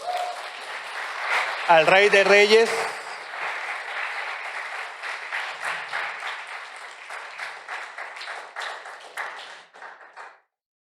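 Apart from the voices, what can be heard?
church congregation applauding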